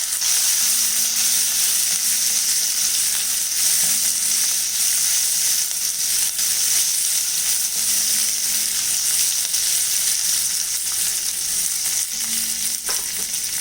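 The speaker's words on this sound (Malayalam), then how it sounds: "സവാള ഒന്ന് വാടി വരുന്നവരെ നമുക്ക് ഇളക്കി കൊടുക്കാം." Thin-sliced onions sautéing in a pan for a poha upma, a steady loud sizzle throughout with faint scrapes as they are stirred, no voices.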